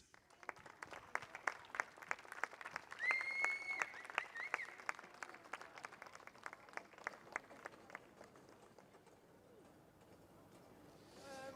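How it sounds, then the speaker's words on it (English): An outdoor race-day audience at a karting event in Abu Dhabi claps for junior finalists on the podium, steady crisp applause that slowly thins and fades. "another big, huge round of applause, please, for your OKN Junior finalists"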